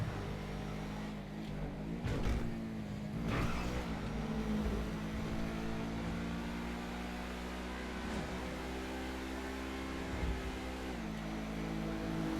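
A car engine droning while driving in GTA Online, a steady low hum with slight pitch shifts and a few brief knocks, moderately quiet and continuous.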